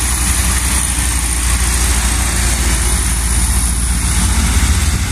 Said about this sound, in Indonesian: kemudian ada Mitsubishi Canter neng Riri